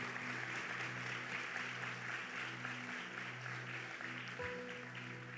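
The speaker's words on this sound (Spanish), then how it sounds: "Dale fuertes aplausos al Señor." A church congregation applauds during a Spanish-language sermon service, a steady wash of clapping over sustained background music tones, moderately quiet and continuous.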